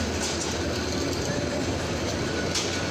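A steady, loud rumbling roar of a train rolling past nearby under a cloudy sky, with faint rhythmic clatter and no clear pauses throughout.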